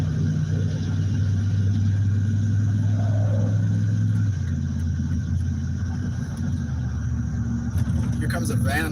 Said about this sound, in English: Here comes a van of some kind.